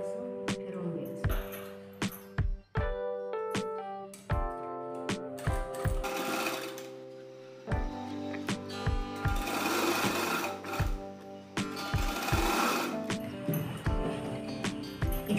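Sewing machine stitching lace onto the side cut of a dress, running in repeated bursts of rapid mechanical chatter with brief stops and restarts, close and fairly loud, with no talking.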